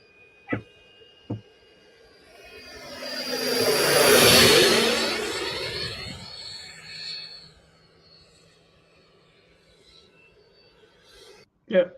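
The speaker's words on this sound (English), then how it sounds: "I haven't put Wayne's F-14 video up yet. I can go get it and we can preview it" A radio-controlled scale F-14 jet makes a low pass, its turbine whine swelling to a loud rushing roar, then fading off. A few sharp knocks sound before and after.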